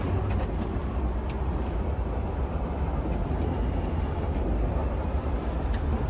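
An electric Land Rover Defender with a manual gearbox and big tires cruises after a gear change, making a steady, continuous low rumble of road and drivetrain noise with no speech.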